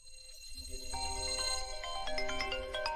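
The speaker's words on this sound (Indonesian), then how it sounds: "Pengacara Jin udah telepon" A phone ringtone plays a bright, repeating electronic melody, fairly loud and steady for several seconds with no talking.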